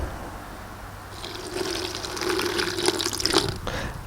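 Water poured into canvas primer in a container, a steady close trickle and splash that grows fuller midway and continues without talk.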